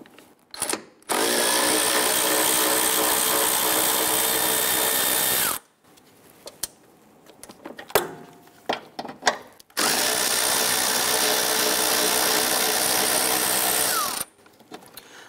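Power tool loosening and removing 13 mm grille bolts on a 1997-2006 Jeep Wrangler: two long, steady, loud whirring runs of several seconds each, separated by a stretch of quieter clicks and handling noises, close up.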